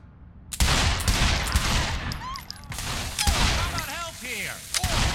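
Grenade explosions and gunfire in the action game Saints Row The Third Remastered, heard as loud, close blasts and rapid bursts of shots that keep going with hardly a pause.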